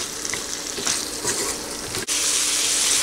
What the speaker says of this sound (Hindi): अब इन तमाम चीज़ों को तकरीबन 2 मिनट तक फ्राई कर लें।